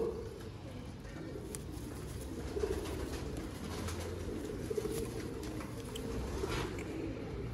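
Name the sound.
young pigeons cooing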